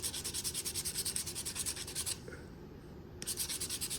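Sandpaper on a small hand block rubbing wood, rapid rhythmic back-and-forth scratching strokes, close and fairly quiet, pausing for about a second before resuming.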